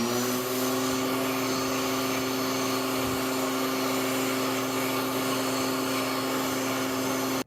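A Slim Dry hand dryer running in an Aldi restroom, a constant loud airy whine with a steady tonal hum that holds unbroken from start to finish.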